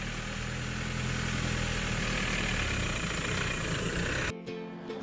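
A manual car's engine idling steadily with a low rumbling hum, close by, cutting out abruptly near the end.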